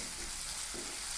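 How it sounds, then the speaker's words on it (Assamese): Ingredients for a chicken gravy with coconut milk fry in a pan until brown, giving a brief, soft, close sizzle. "ব্ৰাউন কালাৰ হোৱালৈকে এইখিনি ফ্ৰাই কৰিব লাগিব।"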